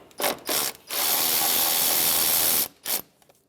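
A ratchet works on a 10 mm bolt on a 2003-2011 Honda Element, with two quick bursts of clicking, a longer run of steady ratcheting, then one more short burst, close and clear, with no voices.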